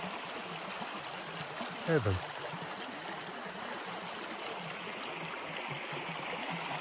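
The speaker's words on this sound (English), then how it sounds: "I've come down to this river" River water runs in a steady broadband wash throughout, with a brief voice rising near the middle and faint talk under the flow.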